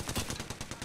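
Rapid automatic gunfire in the Apex Legends shooter game, a rhythmic burst of about ten evenly spaced shots, fairly faint, with no talking.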